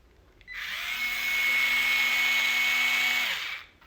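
An electric screwdriver spins up and runs steadily for about three seconds with a high whine, then winds down, loud and close with no talking.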